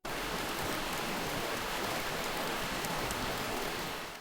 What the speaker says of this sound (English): That did sound like a rainy ambiance